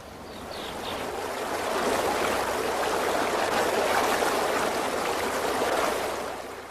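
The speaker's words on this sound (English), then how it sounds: "When it flows, it follows the contour of the stream's bottom and banks." Water runs steadily along a stream, a continuous broadband rushing and gurgling that swells gently and stays close and even throughout, with no voices.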